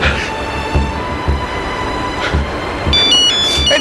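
A mobile phone ringtone chimes loudly and close, a repeating electronic melody that swells near the end, with no talk over it.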